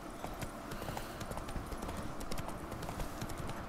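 Horse hooves clip-clop steadily in The Witcher 3 video game, a continuous quick rhythm of hoof strikes over a dense, noisy background.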